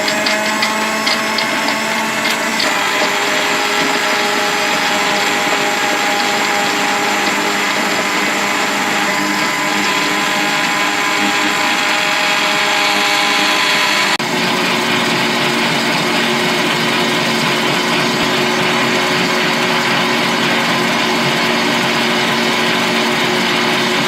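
Mixer grinder jar whirring loudly as it blends watermelon with black salt, a steady high motor whine that shifts pitch about two-thirds through as the load changes, with no talking.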